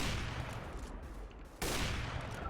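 Gunfire in the video game CS:GO, dense bursts of rapid shots that drop to a quieter pause and then resume at full loudness.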